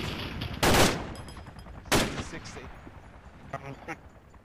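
A German machine gun fires in the military shooter ArmA 2: Operation Arrowhead: two sharp, loud bursts about a second apart, then a few fainter scattered shots trailing off.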